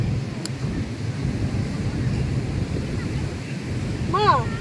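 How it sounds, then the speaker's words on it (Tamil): Steady wind buffets the microphone with a low rumble alongside surf-like noise at ECR beach, Pallavakkam, Chennai, and a brief high bird-like chirp near the end. "காற்று, சரியான காற்று."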